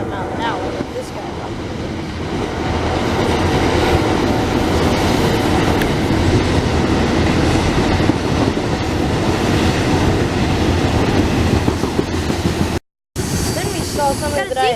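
A freight train rolls through a rail junction in Folkston, Florida at about 45 miles an hour, a loud, sustained rumble and rattle of cars close by that drops out only briefly near the end.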